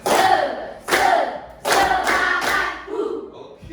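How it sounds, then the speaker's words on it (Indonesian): A classroom of students performs the rhythmic 'tepuk semangat' spirit clap, four loud bursts of group clapping in a steady pattern with a few voices calling out. "ya kita awali dengan tepuk semangat."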